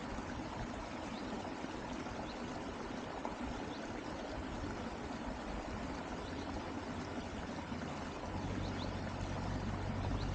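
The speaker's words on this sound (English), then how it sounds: "Something very soothing about the sound of a stream." A stream flowing steadily through countryside, a constant broadband rush of water that stays even and fairly close for the whole stretch, with no voices over it.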